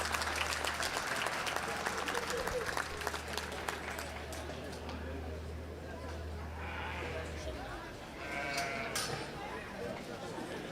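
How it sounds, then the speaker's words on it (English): Audience applause fills a youth livestock show lamb judging for the medium wool class, a steady dense clapping that carries on for several seconds beneath a low hum, with sheep bleating nearby and an announcer's voice over the crowd. "Let's give this young man a round of applause."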